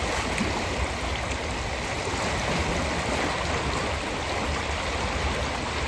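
A noisy river rushes through woods at night, a loud, constant broadband wash of flowing water that stays even and unbroken throughout, with no voices over it.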